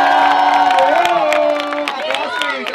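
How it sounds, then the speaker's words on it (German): A crowd at an outdoor scooter jam in Hirschstetten cheers the winner with loud whoops and shouts, some scattered clapping underneath, and then settles into a softer, continuing buzz of voices. "Applaus für ihn, Gratulation Nico!"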